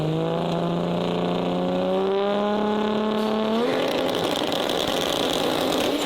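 Modified Toyota Supra engine revving hard at a car meet, a loud close roar climbing steadily in pitch, then breaking into a rough, crackling higher-revving blare.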